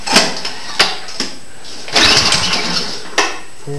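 Troy-Bilt snow blower small engine pulled to start without choke, with throttle halfway: several sharp recoil pulls, then a brief sputtering catch that fades, followed by another pull, close and loud.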